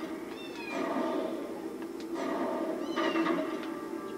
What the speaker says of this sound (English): There's the kitten.